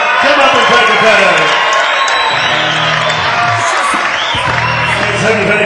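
Crowd at a boxing fight night on the docks cheering and whooping loudly throughout, dense and continuous, with shouts rising over the din and voices mixed in.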